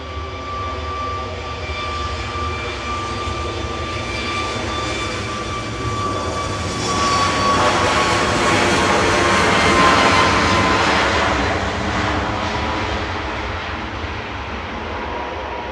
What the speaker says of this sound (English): Ryanair heading to Bucharest with flight